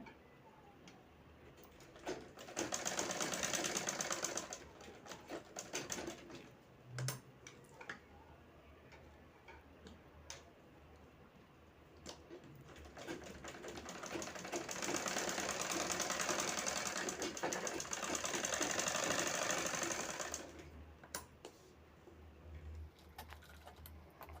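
A sewing machine stitches lace onto a garment in two fairly quiet bursts of rapid ticking, one short and one longer, with softer handling clicks and pauses between them and no speech.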